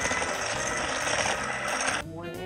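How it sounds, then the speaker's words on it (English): An electric hand mixer whirs steadily while blending cake batter in a bowl for about two seconds, then cuts off abruptly. "Important even when you're using a hand mixer."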